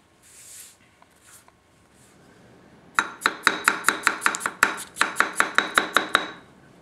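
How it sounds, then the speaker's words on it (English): A Fernandez 230 mm gyuto knife slices wet potatoes on a cutting board, with soft handling noises first, then a fast, even run of about fourteen crisp chops, close and loud, and no talking. "That's one of the most difficult things for a knife to pass is a potato stiction test."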